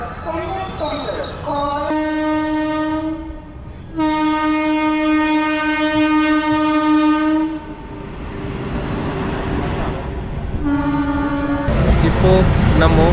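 A train entering Perambur railway station sounds several loud, drawn-out horn blasts over the steady rumble and rattle of the cars rolling in close by.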